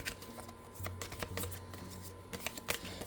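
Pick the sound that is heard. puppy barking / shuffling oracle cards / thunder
shuffling oracle cards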